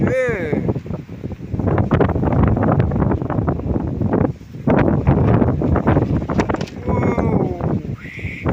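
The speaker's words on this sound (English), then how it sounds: "It's doing the whole filling up with wind. It's like a windsock." Strong gusts batter a tent and balloon it out like a windsock, a loud, continuous roar of wind buffeting with flapping fabric and rattling, while a person talks excitedly over it throughout.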